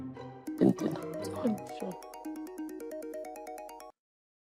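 A telephone rings with a repeating electronic melody, loud and close, its pulsing tones running steadily for a few seconds after a brief jumble of other sounds at the start.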